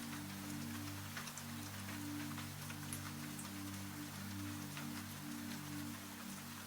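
Soft night rain patters evenly on glass, a faint, steady hiss with scattered light drops over a low constant hum, and no voices.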